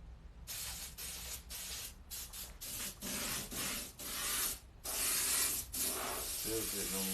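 An airbrush sprays paint onto a black t-shirt in short, repeated hissing bursts separated by brief pauses, close up and fairly quiet.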